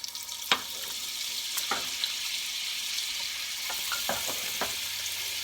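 Olive oil and butter heating together in a pan, a soft continuous sizzle with a few sharp clicks and scrapes of a utensil, fairly quiet and without talk.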